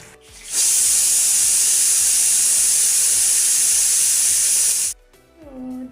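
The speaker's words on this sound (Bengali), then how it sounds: "প্রেসার কুকারে একটা সিটি দিলে তাড়াতাড়ি একটু হয়ে যাবে" A kitchen pressure cooker lets out its whistle as a loud, steady blast of hissing steam lasting about four seconds, then cuts off sharply, leaving quieter household sounds.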